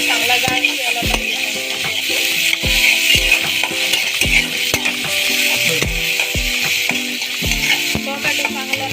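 Tomato and onion sauté loudly in a pan for Marathi sukat chutney, with a dense sizzle under frequent hard clanks and scrapes of a spoon against the pot.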